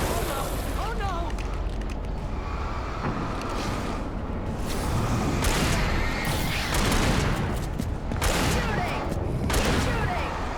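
Gunfire in the Alan Wake video game, a steady loud barrage of shots and booms under blustery wind-like noise, with shouting voices mixed in throughout.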